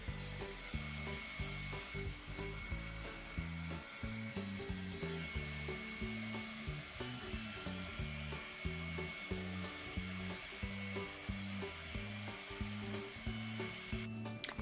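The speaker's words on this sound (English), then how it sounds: "my heat gun is not powerful enough to really move the white out" A small heat gun blows continuously on a resin seascape painting, making a steady airy whoosh with a pulsing low motor hum throughout and no talk.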